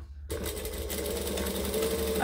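Sewing machine chain stitching a bag starts after a brief silence, then runs as a fast steady mechanical whir and rattle, close and continuous with no talk.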